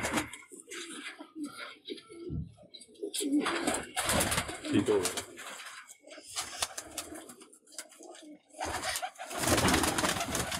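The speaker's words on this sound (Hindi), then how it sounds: "टैडी कबूतर भी है मेरा भैया है" Teddy pigeons coo in a loft, repeated throaty rolling calls close by with wing flutters, heard alongside someone talking in Hindi.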